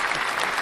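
A small group clapping during a live-streamed talk show episode, a brief, dense patter of hands at close range, loud and even for under a second.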